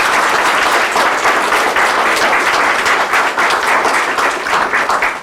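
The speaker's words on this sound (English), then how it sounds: "let's give a round of applause to our guests" A room full of people applauding, loud dense clapping that carries steadily throughout without pause.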